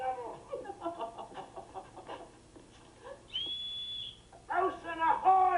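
After some muffled talk, a single sustained whistle sounds at a steady high pitch for about a second, followed by more voices.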